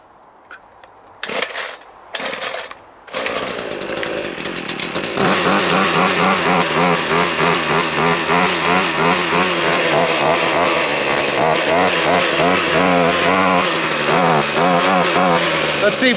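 A Ryobi chainsaw starts with a few short pulls and bursts, then runs loud and steady while cutting on a cold day, its harmonic buzz rising and dipping with the load for over ten seconds.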